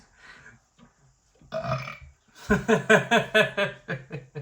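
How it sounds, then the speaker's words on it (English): A long, loud, rumbling burp into a pumpkin with a pulsing, croaky rhythm, preceded by a few quieter grunting sounds. "Did you just burp into your pumpkin?"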